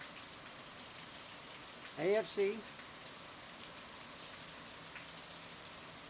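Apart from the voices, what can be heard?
rain falling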